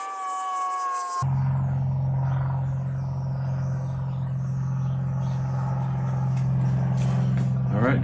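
A John Deere B tractor engine runs on kerosene, a steady low rumbling drone held close and constant for the whole stretch.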